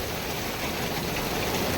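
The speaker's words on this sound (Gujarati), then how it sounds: "અત્યારે કેવો વરસાદ આવે જોવા." Heavy rain pouring in Usakoda, a steady, dense hiss of falling water close by, unbroken and alone with no voices.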